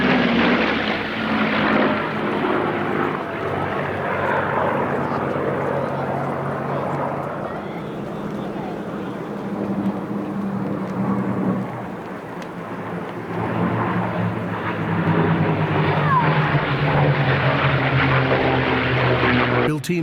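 A Spitfire and a Mustang warplane make formation passes at an airshow in Norway, their propeller engines producing a continuous loud droning roar that swells and eases, heard under a commentator's voice.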